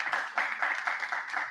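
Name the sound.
applause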